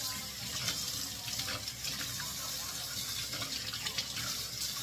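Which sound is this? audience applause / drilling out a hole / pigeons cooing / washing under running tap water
washing under running tap water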